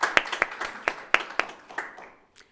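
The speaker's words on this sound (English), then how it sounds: "So another round of applause for our judges as well." Audience clapping at a photo competition awards event for the judges, a brief scattered round of hand claps with a few sharp close claps that thin out and fade within about two seconds.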